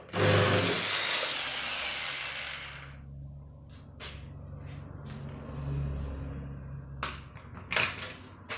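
A power drill bores into a van's plastic water tank in a loud, whining burst lasting a few seconds. It winds down into quieter handling, with sharp clicks and knocks after.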